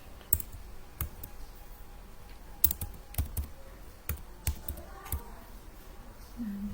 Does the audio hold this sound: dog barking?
no